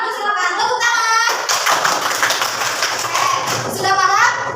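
Children in a fourth-grade classroom clap their hands in quick, uneven taps, close by, with young voices chattering over and around the clapping.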